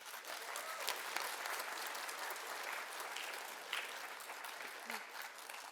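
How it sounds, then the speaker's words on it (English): An audience at a Veterans Day program in a performing arts center gives technical theater students a round of applause, sustained and fairly distant, with a few murmuring voices underneath. "Please join me in a round of applause for our technical theater students."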